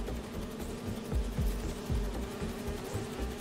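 Bodyguard bees from Spider-Man 2 buzz in a steady low drone, with faint repeated pulses, at moderate level and with no talk over them.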